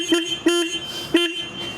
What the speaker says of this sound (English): as per usual, we're gonna do a horn check